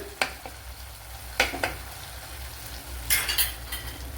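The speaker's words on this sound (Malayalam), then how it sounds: "ഇപ്പോൾ ഈ തക്കാളിപ്പഴം ഒന്ന് ഉടച്ചു കൊടുക്കണം" Tomatoes being mashed in a pan for Tamil-style garlic kuzhambu, with a few sharp spoon-on-pan knocks and scrapes over a soft frying hiss, close and sparse.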